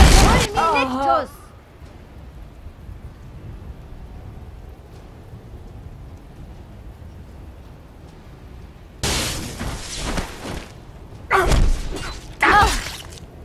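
Fulminictus lightning spell cast in the game Am Fluss der Zeit, heard as a cluster of loud, crackling, thunderous bursts near the end, following a stretch of quiet after a voice speaks at the start.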